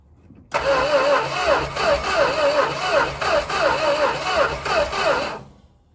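An abandoned big block Plymouth Trail Duster's engine cranks over and over in a steady, rhythmic churn for about five seconds without catching, loud and close, then stops.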